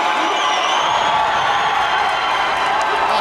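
Loud, dense crowd cheering and whooping fills a gym at a wrestling dual, a steady roar of many voices with scattered shouts, constant throughout.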